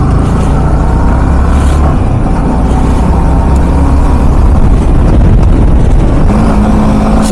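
Motorcycle pushed hard on an open road during a top speed run, its engine droning loud and steady under heavy rushing wind noise throughout.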